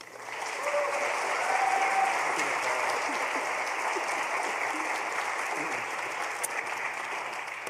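An audience applauds to welcome George Rodriguez at a University of Michigan talk, dense steady clapping rising quickly and holding for several seconds before tapering slightly, with faint chatter mixed in.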